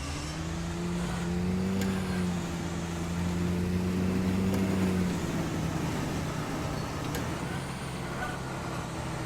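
A camouflaged vehicle in a fishing game drives along with a steady droning engine hum and rumbling road noise, its tone rising slightly and then settling, close and continuous throughout.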